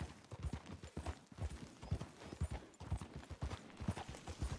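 Horse hooves clip-clop steadily in Red Dead Redemption 2, a rhythmic run of close, even footfalls that carries on for the whole stretch with no talk over it.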